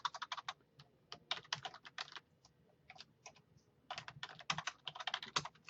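Typing on a computer keyboard while building a web page, with quiet, close clicky keystrokes in irregular quick bursts separated by brief pauses.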